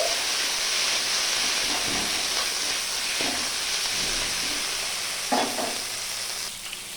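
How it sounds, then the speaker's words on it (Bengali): Ginger, garlic, coriander, cumin and fennel paste with chopped coriander leaves frying in a pan, giving a dense, steady hiss and sizzle with a few soft scrapes of stirring, no voices. "আমি ভালো করে ভেজে নিচ্ছি।"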